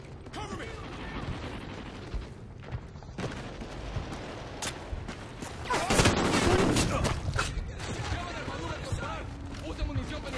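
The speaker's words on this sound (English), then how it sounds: "Hey, I'm taking fire!" Gunfire in the Xbox 360 video game Call of Duty: Ghosts, with rapid bursts and mechanical clatter over a continuous busy battle mix that swells around the middle, with game voices shouting.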